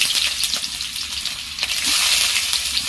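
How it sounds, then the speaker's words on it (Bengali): Chopped onion tipped into hot oil with cardamom and cloves sizzles loudly and close, with scraping stirring and a few clinks, and the sizzle swells toward the end. "এবার দিয়ে দিচ্ছি আমি পেঁয়াজ কুচি"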